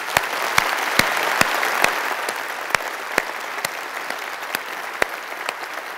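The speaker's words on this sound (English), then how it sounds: "let's give another big round of applause for that stunning performance" Audience applause after a stunning live performance at a digital event, steady and evenly filling the room, with sharp individual claps popping out above the dense wash throughout.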